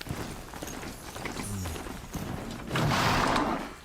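A horse galloping in the video game Horizon Zero Dawn, with steady hoofbeats under game music and ambience that swell louder toward the end.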